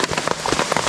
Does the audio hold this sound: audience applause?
no